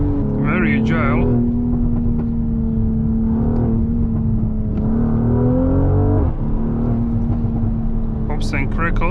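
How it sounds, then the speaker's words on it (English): 2022 Mercedes-AMG GLC 43 exhaust under driving, a loud steady engine drone throughout with sharper crackling bursts near the start and again at the end. "Pops and crackles."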